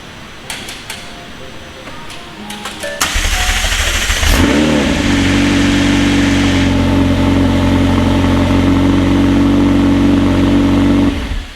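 A McLaren 720S engine cranks, fires and settles into a loud, steady idle after a brief rev, close up, following some faint clicks before the start.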